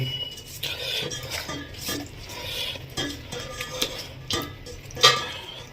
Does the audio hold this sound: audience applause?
no